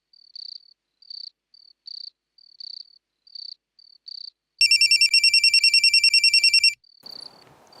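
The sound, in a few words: telephone ringing during a call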